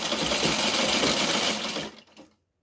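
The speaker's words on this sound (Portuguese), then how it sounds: "Essa costura eu vou fazer com vocês. E vamos costurando." Sewing machine stitching a seam in a fast, continuous mechanical whir that runs close and steady before stopping abruptly near the end.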